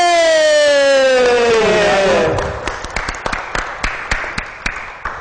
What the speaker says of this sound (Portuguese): Vamos aplaudir ele, Jandir Rodrigues!